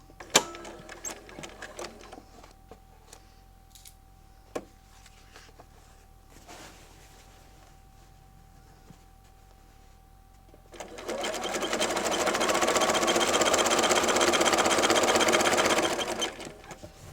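A sewing machine runs steadily for several seconds, stitching corner to corner on the diagonal across a beginner's baby quilt binding, after quieter handling noises and small clicks.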